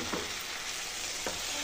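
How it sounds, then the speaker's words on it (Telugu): Boiled chicken is stirred into tomato masala in a pan for chicken biryani, with a soft, steady sizzle and two distinct scraping stir strokes, close but fairly quiet, with no voices. "ఈ చికెన్ అంతా బాగా కలుపుకోవాలండి"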